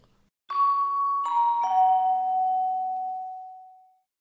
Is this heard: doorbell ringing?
yes